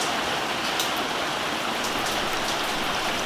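Steady heavy rain falls in Phuket, Thailand, a dense unbroken hiss of drops across the whole clip with no voices.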